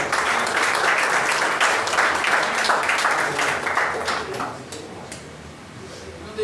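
Congregation applauding during a church service, dense clapping that stays strong for several seconds, then thins and fades toward the end, with some voices faintly mixed in.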